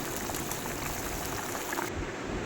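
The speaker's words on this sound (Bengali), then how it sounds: "মাছগুলো দিয়ে মাছ ফুটিয়ে নিচ্ছি ভালো করে" Pieces of bata fish simmer in a thin mustard-oil curry, giving a soft, continuous bubbling hiss. The sound is fairly quiet and close, and no one speaks over it.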